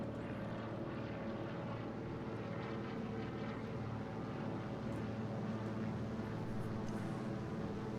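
A DHC-2 Beaver floatplane drones past in a flight simulator game, its propeller engine giving a steady, fairly faint hum that holds level with no clear rise or fall.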